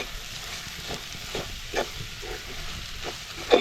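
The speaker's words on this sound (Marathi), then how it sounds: "आणि ओलं खोबरं पण परतवून घेऊया." Fresh grated coconut sautés with spices in a pan for a crab curry, giving a quiet, steady sizzle broken by soft scraping stirs and a louder clink near the end.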